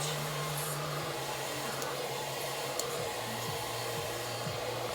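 A hair dryer blows steadily and close up during a full-volume wedge blow-dry, a constant loud whoosh with faint shifts in pitch as the airflow is moved through the hair, and no talking.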